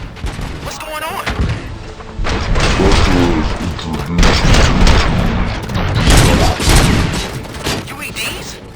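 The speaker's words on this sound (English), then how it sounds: "Gunshots? What's going on?" Gunfire in the video game Robocop: Rogue City, a series of loud, sharp bursts and booming thuds that come in clusters over several seconds, mixed with other busy in-game noise.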